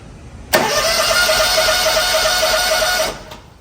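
A 27 HP Kawasaki engine with a no-start fault cranks on its electric starter in one close, steady whirring burst of about two and a half seconds, then stops without catching.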